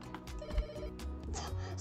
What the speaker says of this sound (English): darn, the phone's going off again